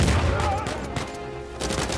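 Gunfire from the video game Uncharted 4 sounds in a dense, continuous burst of shots, loud and close, with a short lull before a further volley near the end.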